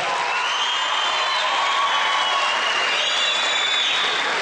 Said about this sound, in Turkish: Önce başkanımızı bir alkışlayalım çocuklar.